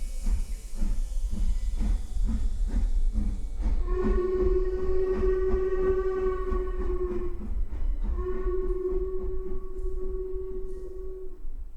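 A steam train pulling out of a village station, its rhythmic chuffing beating steadily throughout while a long whistle sounds twice over the motion.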